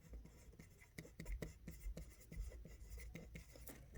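A pen scratches out a statement on paper or a writing surface, faint, close strokes and taps in an irregular rhythm, with no talking.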